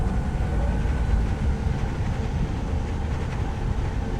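A monorail ride gliding over a herbivore enclosure in the park-building game Jurassic World Evolution 3, giving a steady low rumbling rail hum with faint clatter that runs unbroken throughout.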